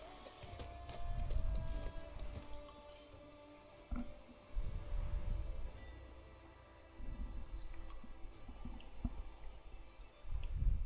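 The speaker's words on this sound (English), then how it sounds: "I'm calling my horse." Horse hooves in the video game The Witcher 3: Blood and Wine, clip-clopping in uneven bursts as the horse approaches, fairly soft and close, with a few faint ticks and no talking.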